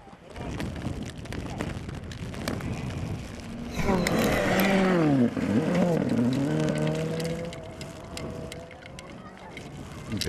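A rally car's engine builds, roars past on a special stage of the Rally del Atlántico with rising and falling revs and gear changes, then fades, among crowd noise and voices.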